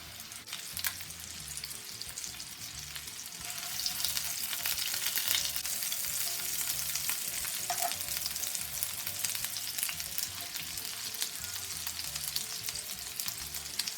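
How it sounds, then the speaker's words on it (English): Swedish meatballs frying in a pan, a steady crackling sizzle that continues unbroken throughout. "now we're going to let the meatballs fry until they're nice and golden brown"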